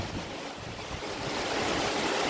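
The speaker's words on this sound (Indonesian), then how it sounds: "hujannya semakin deras ini" Heavy rain driven by wind roars close and loud in a dense, unbroken rush that swells slightly toward the end, with no voices.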